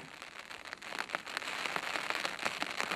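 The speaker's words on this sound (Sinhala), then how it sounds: "දැනුම් දීමක් නැතිවම ඇදහැලෙන වැස්ස ගැන ගෝනුන්ට ගානක් නෑ වගේ." Rain falls steadily on the open grassland of Horton Plains, Sri Lanka, in October: a soft, even hiss of drops on surfaces that thickens partway through, fairly faint, with no voices.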